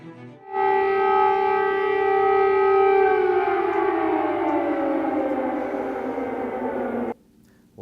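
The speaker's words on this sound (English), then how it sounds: "Loud, ear-piercing raid sirens blare throughout the Ukrainian capital" A loud air raid siren wails steadily over Kyiv, Ukraine, in February 2022, its tone slowly sliding downward for several seconds before cutting off abruptly.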